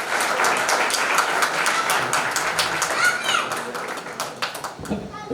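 An audience at a launch event seminar claps in a dense, sustained round of applause that thins into scattered individual claps near the end.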